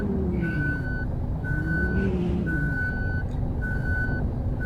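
A bus in a bus-driving video game sounds its reversing alarm, four steady evenly spaced beeps over a loud constant engine rumble, up close.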